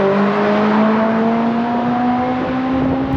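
A Honda S2000 fitted with an M2 Motorsport exhaust revs steadily, its deep booming bass drone holding loud and close without letup.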